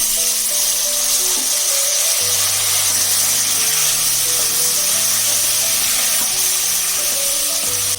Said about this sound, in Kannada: ಸ್ವಲ್ಪ ಒಂದು 1/4 ಕಪ್ ನೀರು ಹಾಕೋಬೇಕು.